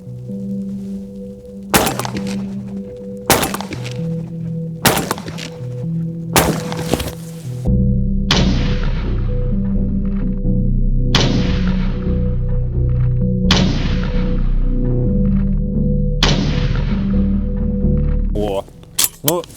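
A shotgun fires heavy 50-gram magnum shells at an FPV drone outdoors, roughly eight sharp, loud reports spaced a second or two apart, each followed by a ringing, echoing decay over a steady background hum.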